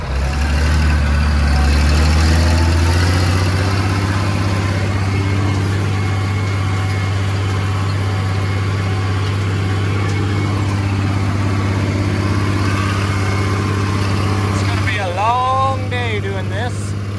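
A tractor engine runs steadily before wheat planting, a loud low idle droning throughout, with a brief burst of higher whining tones near the end as the machine is worked.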